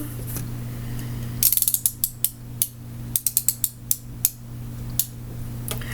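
An Addi King Express knitting machine is cranked through rows, giving a close series of sharp ratcheting clicks and clacks in uneven bursts over a steady low hum, with no speech.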